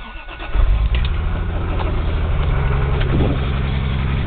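A Toyota Supra 7M engine with a rod knock cranks and fires, settling into a loud, rough, steady running note with a heavy pulsing low rumble, close by and without talk.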